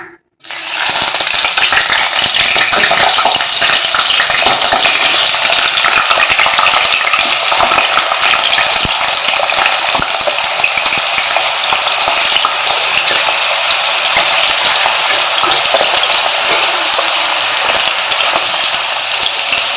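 Loud, dense sizzling of potatoes frying in ghee in a pan, a constant crackling roar with occasional scrapes, close up and without talk.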